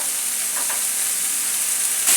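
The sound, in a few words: stirring garlic and ginger frying in a pan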